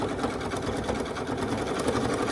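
Sewing machine running steadily while stitching binding onto a baby quilt with a zigzag stitch and pink thread, a continuous close whirring hum with even rhythmic needle chatter throughout.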